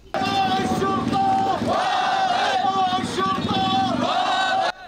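A crowd of protesters in Basra, Iraq, chants Arabic slogans together in loud, rhythmic unison, voices rising and falling in repeated phrases, continuous and close for the whole stretch.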